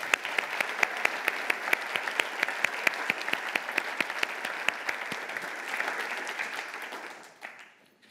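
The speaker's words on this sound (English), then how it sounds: "let's give him a big round of applause." An audience applauds steadily at an InvenTeam patent award presentation, dense sustained clapping with a few sharp louder claps on top, fading away near the end.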